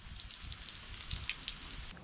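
Rain falling at a campsite in Byfield National Park beside a campfire with a camp oven, a soft steady patter with a few sharper drops hitting a surface nearby.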